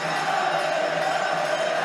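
A ball hockey crowd at a world championship quarter final roars steadily in support, a dense, sustained cheer with no breaks.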